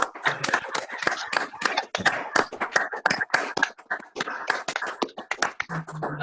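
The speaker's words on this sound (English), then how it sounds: "can we give a massive round of applause as an appreciation to the citizen sewers?" Staff applauding in a round of clapping, with distinct, fairly close hand claps in an uneven, sparse rhythm from a small group, lasting several seconds.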